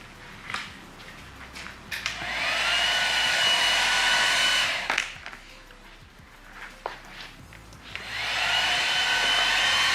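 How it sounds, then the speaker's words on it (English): Heat gun set to its highest setting, rated to 600 degrees, blowing a steady loud hiss in bursts while window tint film is worked on a frameless Ferrari F8 window, with brief handling clicks between runs. "You always want the heat gun on the highest setting."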